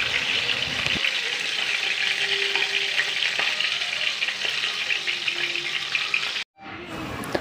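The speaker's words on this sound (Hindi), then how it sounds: "शिमला मिर्च को हमें ऐसे ही अलगते पलटते हुए अच्छे से गोल्डन होने तक फ्राई करना है।" Gram-flour-stuffed capsicum frying in a pan and turned now and then, a loud, dense, steady sizzle that cuts off abruptly near the end before resuming more quietly.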